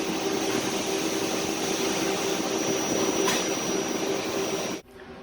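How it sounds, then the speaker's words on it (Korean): Abnormal noise from a soft starter driving a motor: a continuous loud hum with a steady tonal whine, unchanging until it abruptly cuts off near the end, leaving quieter background. "소프트 스타터에서 이상 소음도 발생됩니다."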